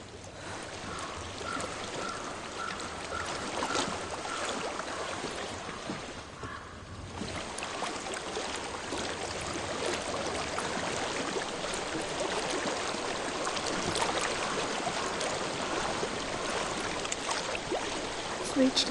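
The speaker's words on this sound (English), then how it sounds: "I hear water." A flowing stream in the fantasy video game Hellblade: Senua's Sacrifice rushes as a continuous broad wash of water, steady and moderately loud, with a brief dip midway.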